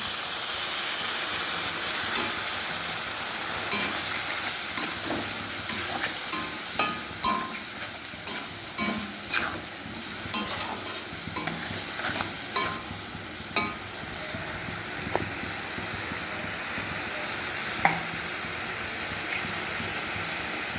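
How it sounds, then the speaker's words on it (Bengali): Dried chilli powder and turmeric masala fry in a pan for a light fish curry with vegetables, a steady hiss and sizzle broken by a run of regular scraping strokes as a spoon stirs and mixes it. "এই মশলাটাকে আমি এবার মিক্স করে দেব"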